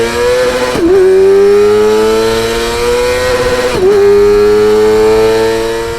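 Loud and close, a Kawasaki Ninja ZX-4RR fitted with an Akrapovic exhaust and quickshifter screams at high revs, with two quick upshifts that briefly dip the pitch before the engine climbs again.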